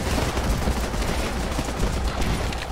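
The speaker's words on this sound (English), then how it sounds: "We're getting shot at." Continuous automatic weapon fire from the game Running With Rifles, a thick, close barrage that never lets up across the short stretch, with overlapping shots blurring into one roar.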